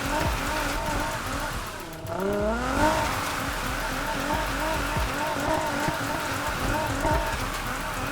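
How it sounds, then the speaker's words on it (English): Nissan Silvia S15 drift car engine in the Need For Speed video game, revving in quick repeated throttle blips that rise and fall rhythmically over steady road and tire noise. "You guys hear how I'm just kind of tapping the throttle?"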